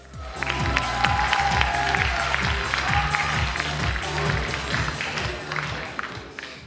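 Audience at a KVN comedy show semifinal applauding loudly, dense clapping alongside rhythmic stomping or beat thumps, with some cheering under it.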